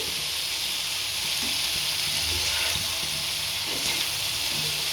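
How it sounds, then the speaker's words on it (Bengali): Soaked, squeezed soybean chunks fry in a pan with a continuous, dense sizzle close up, with faint scraping and stirring underneath and no voices. "একটু ভাজা ভাজা হলে সুন্দর হবে, মজা হবে খেতে।"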